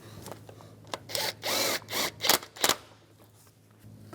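Tightening a bolt on an ignition coil of a 2010-2016 Cadillac SRX engine: a few quick ratcheting bursts and clicks at close range, with short pauses between them and no talking.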